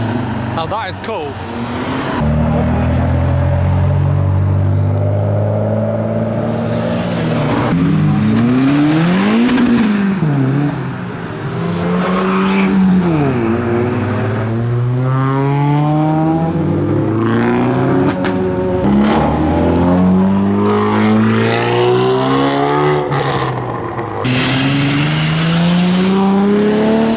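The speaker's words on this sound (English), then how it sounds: "So much induction noise." Modified Japanese cars leaving a meet in Reading, revving hard with heavy engine induction noise; repeated loud rising and falling revs pass close by, one after another, with no talk over them.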